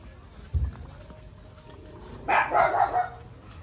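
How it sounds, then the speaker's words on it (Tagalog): Dogs barking near Bulabog Beach on Boracay, one low bark early on, then a louder run of several barks close by. "Medyo nakakatakot yung mga aso rito."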